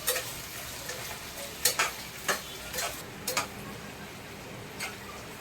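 Steady sizzling of onion, green chilli and tomato frying in a pan for mutton kosha, with several sharp stirring clicks and scrapes scattered throughout; no voices.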